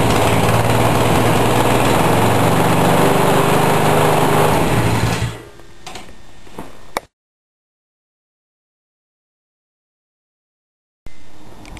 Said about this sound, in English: Now, pulling this cord here will start the lawnmower.